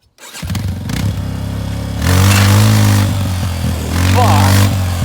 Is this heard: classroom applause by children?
no